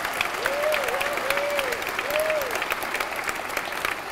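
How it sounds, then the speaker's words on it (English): A festival audience claps together in steady, moderately loud applause, with a few whoops rising above the clapping. "give yourselves a huge round of applause"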